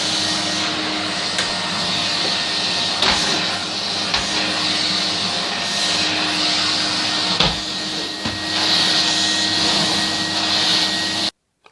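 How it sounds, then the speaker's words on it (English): A vacuum cleaner hoovers a bedroom with a steady, loud whining drone that runs almost without a break, with small bumps and knocks as it moves and a sudden cutoff at the end. "now I am going to hoover and remove all rubbish"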